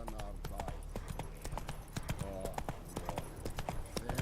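Hooves of Roach, Geralt's horse in The Witcher 3, clip-clop in a steady, rapid trotting rhythm close by, with a voice talking over them.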